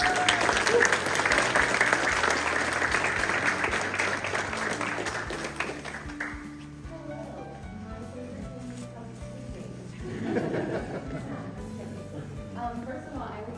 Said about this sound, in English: let's give them a applause first